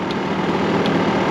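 An early-model Honda Live Dio ZX scooter idles close by, its muffler giving a steady, even buzzing drone with no breaks.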